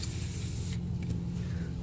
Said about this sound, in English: The other thing you could do with this product is you take it and you can actually just spray it onto a towel.